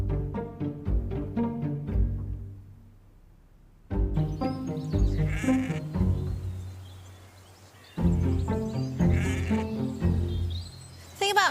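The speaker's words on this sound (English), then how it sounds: "The thing about sheep is that they just don't stay where they're supposed to stay." Sheep bleat in a series of loud, close wavering calls, several animals overlapping in bursts separated by brief lulls, with no talking.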